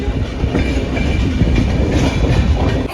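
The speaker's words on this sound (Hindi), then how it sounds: "फ्रेंड्स हमारी ट्रेन तो निकल चुकी है यहाँ से।" A passenger train rolls along after leaving a station in India, wheels clattering in a steady, loud rumble with rhythmic clicks over the rails.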